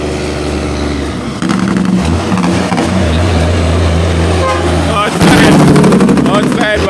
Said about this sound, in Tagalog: Engine brake powerful though.